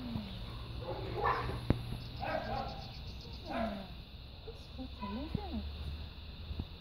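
A dog gives a few short yips and whimpers, spaced apart and fairly faint over a low background hum.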